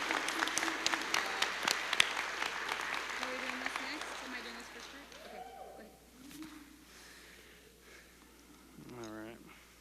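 Applause at a college graduation ceremony fills the first half, then thins and fades as voices talk over the quieter hall.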